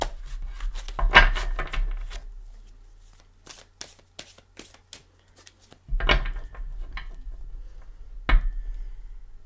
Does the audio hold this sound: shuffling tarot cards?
yes